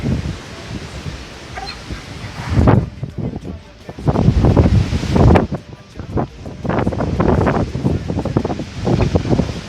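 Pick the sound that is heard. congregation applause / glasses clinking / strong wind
strong wind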